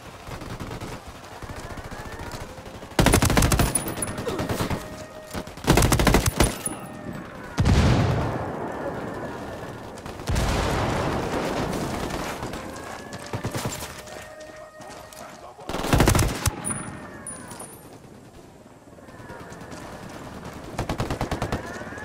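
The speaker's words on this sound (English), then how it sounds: "I'm opening fire." Gunfire in Ghost Recon Wildlands comes as several loud bursts of rapid shots separated by quieter stretches, with brief voices in between.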